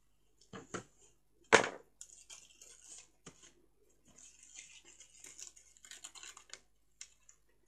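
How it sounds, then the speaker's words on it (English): Backing tape is peeled off a handmade shaker card with sharp crackles and a loud rip near the start, followed by scattered soft rustles and small pulls close by, with no voices. "all we're going to do now is remove this backing tape"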